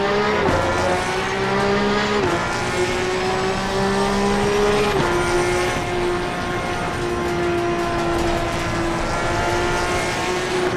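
Porsche 911 GT3 Cup race car at Donington Park in Assetto Corsa Competizione, engine screaming loud and steady at high revs, pitch dropping on shifts and climbing again, with faint tire squeal and no talk.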